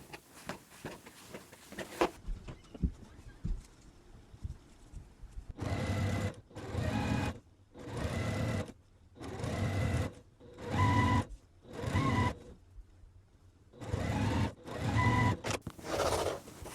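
Domestic sewing machine stitching quilt block pieces for a beginner quilt, running in about eight steady bursts of a few seconds each with short pauses between, close and fairly loud, preceded by quiet handling.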